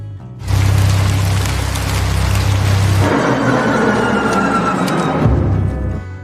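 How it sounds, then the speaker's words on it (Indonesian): Thunderstorm with heavy, steady rain and a deep rolling rumble of thunder, loud and close, filling the whole stretch with dense noise and no voices. "Tiba-tiba langit pun bergemuruh, petir menyambar"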